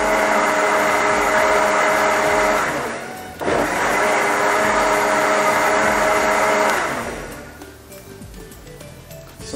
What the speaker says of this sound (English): we start blending just one more time for about 10 seconds